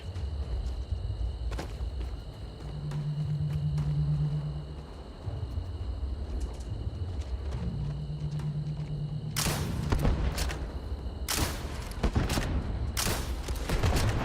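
Grenade launcher and gunfire in the space video game Starfield: a low rumbling ambience with a droning hum, then several loud bursts of shots and blasts toward the end.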